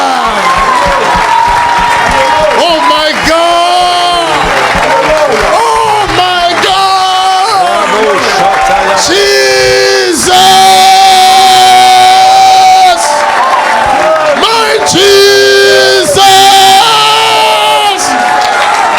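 A church congregation at a worship service cheers, whoops and applauds loudly and continuously, a dense wall of crowd noise with singing and voices mixed in throughout.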